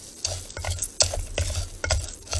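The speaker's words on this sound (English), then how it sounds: "Just kind of want to bloom the risotto a little bit with some heat and some butter." A wooden spoon stirring risotto with butter in a pan on a rocket stove outdoors, giving close, rhythmic scraping strokes over a soft sizzle, with no voices.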